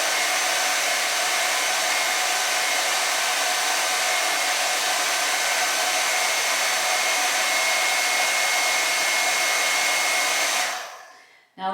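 A hair dryer on high heat styles a wavy wig, its steady airy whir running loud and unbroken for about eleven seconds before cutting off abruptly near the end, with no voices over it.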